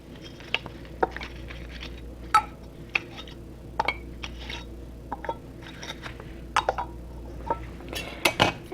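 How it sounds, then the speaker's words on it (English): Metal canning lids set onto jars of tomato juice during water bath canning, giving scattered light clinks and taps of metal on glass, some sharper than others, over a low steady kitchen hum. "So the next thing we're going to do is put the lids on"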